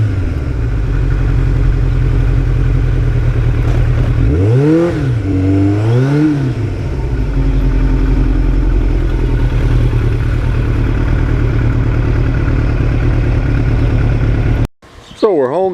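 A Kawasaki Ninja 750 motorcycle engine runs steadily close by for most of the clip, with two rising-and-falling revs near the middle, then cuts off abruptly near the end. Faint low talk sits under the engine.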